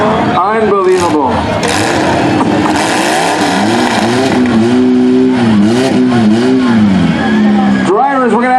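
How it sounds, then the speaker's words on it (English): Several race car engines rev loudly at close range during a parade, rising and falling in overlapping pitched whines, with an announcer's voice over the public address in the background. "Drivers, we're going to ask you to shut your engines."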